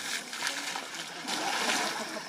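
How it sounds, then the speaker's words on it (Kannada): Zoo elephants splash and play under their own shower, a steady wash of falling and slapping water that runs continuously at close range with no talk. "ಅದಕ್ಕೆ ನೋಡಿ, ಸ್ವಂತ ಶವರ್ ಕೂಡ ಇದೆ ಇವುಗಳಿಗೆ."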